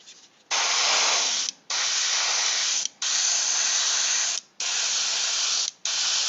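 Spray paint hisses onto a Thanos tabletop miniature in five loud, steady bursts about a second long each, separated by brief pauses, close up with no voices.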